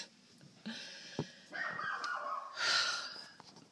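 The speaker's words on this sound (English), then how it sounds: "my dog's gonna just keep barking" A dog barks and yips repeatedly inside a car, several sharp calls over a breathy background, fairly close and moderately loud, with no talking.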